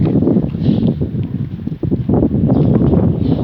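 Hot wind buffets the microphone in rough, rumbling gusts at a building site, a constant low roar that dips briefly midway before surging again.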